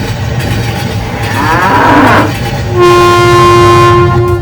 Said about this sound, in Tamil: ரயிலை மெதுவாக ஓட்டுவோம் ரயிலும் மெதுவாக போனது